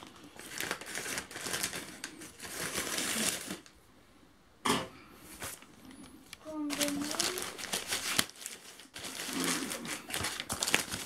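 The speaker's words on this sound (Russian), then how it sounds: "Открываем посылочку." Crinkling and rustling as a parcel package from AliExpress is opened by hand, with irregular bursts of plastic and paper handling, a sharp snap near the middle and quieter pauses, close to the microphone with faint voices in the background.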